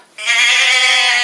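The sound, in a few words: voice imitating sheep bleating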